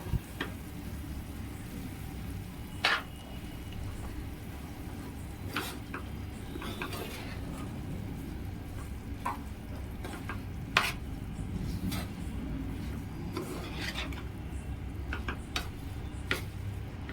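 Dry spices being stirred together for a fresh turmeric pickle: coarsely ground coriander and fennel seeds with salt and red chilli powder, giving soft scraping and light clinks of a spoon against a bowl, close and steady, with no talking.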